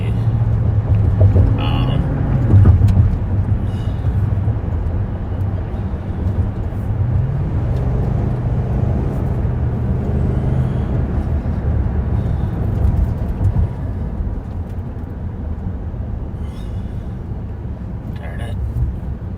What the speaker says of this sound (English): As you can see, the traffic's pretty heavy, so I'm trying to do this safely.